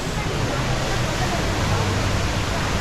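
Steady broadband rush of the indoor waterfall at Jewel, Changi Airport, Singapore, seen from the fourth floor, a continuous loud roar of falling water with faint crowd murmur beneath.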